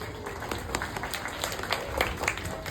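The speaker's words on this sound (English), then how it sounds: "So give yourselves a round of applause" A small outdoor crowd at a zoo's Asian elephant area claps briefly, a light patter of scattered hands at modest volume with a few sharper individual claps.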